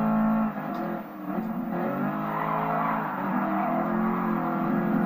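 An American car in a PS4 racing game speeds hard through a corner, its engine note a loud, continuous roar that rises and shifts pitch as it revs, with no talk.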